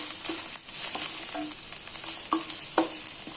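Coriander leaves sautéing in a pan for mango rice: a soft, steady sizzle with a few light scrapes and taps of a stirring spoon against the pan.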